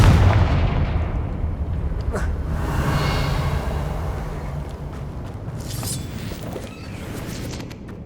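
Repeated Confringo blasting spells erupt in Hogwarts Legacy as loud booming explosions with crackling bursts, a heavy rumbling bed throughout and fresh blasts near the middle and later on.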